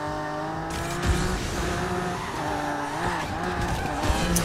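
Race car in the mobile game Need for Speed Mobile skidding with tires squealing over a loud droning engine, continuous and close, and no talk.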